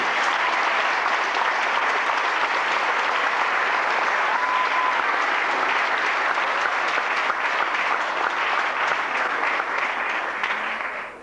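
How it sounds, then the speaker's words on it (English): Loud, sustained applause from a large audience, steady throughout and tapering off at the very end. "Please hear Dean King a round of applause."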